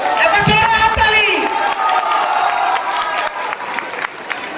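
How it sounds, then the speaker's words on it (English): Audience at a school farewell for the ISC batch applauding teachers and staff, a crowd of clapping mixed with cheering and overlapping voices, loud at first and gradually thinning out. "A big round of applause for them also."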